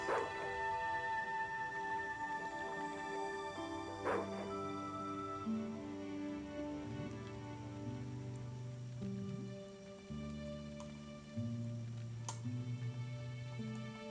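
A dog barks and whimpers in the Broken Sword 2 video game at a dock, with a few yips over steady tonal game music and faint ticking.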